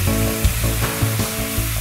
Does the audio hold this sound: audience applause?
no